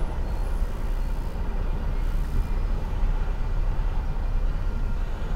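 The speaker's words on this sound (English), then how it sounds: "And here's a little train." A steady low rumble of a small train running nearby in a railroad park, continuous and even, with faint rattling throughout.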